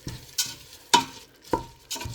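Rice being stirred in a cooking pot, a few scraping, rustling strokes spaced about half a second apart over a soft sizzle, close and fairly quiet.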